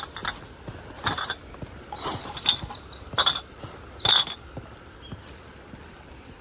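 Birds singing at Cheddar Gorge, repeated bright chirps and short trilling phrases rising over faint outdoor background, moderately close with no talking.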